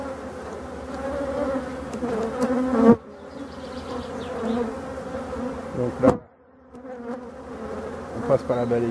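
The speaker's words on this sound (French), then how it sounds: "c'est des abeilles calmes, heureusement" Calm honeybees buzz densely around an open frame from a queenless hive, a steady close swarm drone that drops out briefly twice, with someone speaking a few words.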